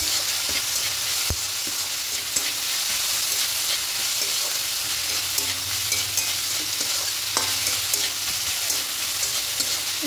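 Red amaranth greens with poppy seeds frying in a pan while being stirred: a steady, close sizzle runs throughout, broken by a few sharp scrapes and clacks of the spoon.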